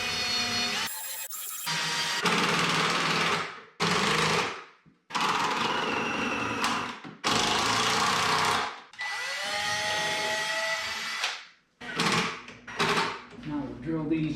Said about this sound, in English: Drill these all the way through.